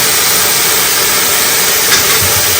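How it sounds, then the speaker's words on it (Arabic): Meat and sausage sizzling while sautéed in a pan, a loud, steady broadband hiss and crackle that fills the whole moment without letup. "صوت الطشطشة على ما تتشوح اللحمة"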